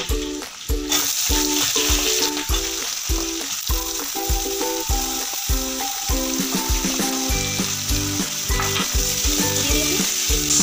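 Eggplant, potato and greens frying loudly in hot oil seasoned with dried chilies and panch phoron for a Bengali village dish with fish roe and fish fat, a steady close sizzle broken by regular stirring scrapes.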